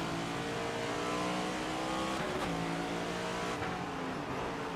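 Race car engines in NASCAR 25, loud sustained roaring of a close engine with shifting pitch as other cars run alongside, with no talking.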